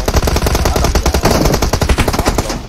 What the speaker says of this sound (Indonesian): There's gunshots, bro.